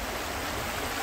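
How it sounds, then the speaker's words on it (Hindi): A short, soft burst of hot spring water flowing out from inside a mountain, a continuous gentle rush with no voices. "ये पहाड़ के अंदर से पानी उधर से निकल रहा है,"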